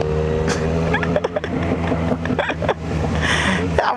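Honda Hornet motorcycle engine revving and pulling hard up close, a steady loud drone with sharp throttle blips, with a voice speaking briefly over it.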